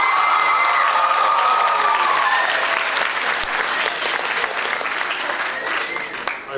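An audience at a school sports gala applauds loudly and continuously, with some cheering and shouting over the dense clapping that slowly fades.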